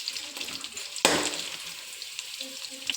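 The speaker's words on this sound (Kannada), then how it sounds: "ಸೊ ಈಗ ಸ್ವಲ್ಪ ಫ್ರೈ ಮಾಡ್ಕೊತೀನಿ ಆಯಿಲಲ್ಲಿ." Garlic, pepper, cloves and cinnamon hitting hot oil, a sudden sizzle that flares up and then settles into a steady, close frying hiss.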